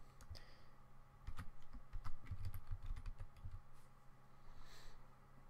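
Quiet computer keyboard clatter as a password is typed, with irregular bursts of soft key clicks, some spaced, some in quick runs, fairly close with no talking.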